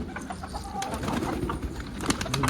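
Pigeons coo softly and repeatedly around a loft where a runaway pigeon has been caught, with light fluttering and background noise throughout.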